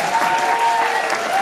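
Wedding reception guests applaud together for the bride and groom, a dense, steady wash of clapping that holds at full strength for the whole short stretch, with no break and no talk over it.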